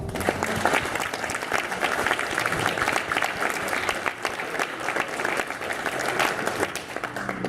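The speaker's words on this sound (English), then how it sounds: "So I want you all to give yourself a round of applause as well" A crowd at a convention closing ceremony claps loudly and continuously, with sharp individual claps standing out and a few faint voices mixed in.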